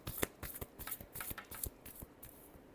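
Tarot cards are shuffled by hand in a quiet room, giving soft, quick riffling and flicking sounds in an uneven rhythm, close by and faint.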